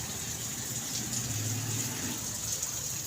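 A hose with a shower spray head waters garden plants wilted by the heat, giving a steady, close hiss of spraying and splashing water with no talk.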